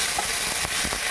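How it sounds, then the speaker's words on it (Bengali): A dried red chilli and cumin seeds sizzle in hot oil, a dense, loud hiss that fills the short moment with a few faint crackles and stirring taps. "আমি তেল গরম করে এখানে একটি শুকনো লঙ্কা আর সাদা জিরে ফোড়ন দিয়ে দিলাম"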